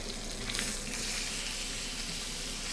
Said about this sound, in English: Just a sear.